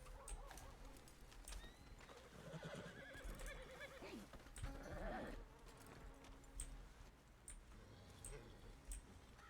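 A video game horse whinnies and snorts amid clip-clopping hooves, with other farm animal bleats mixed in, moderately faint over a busy background.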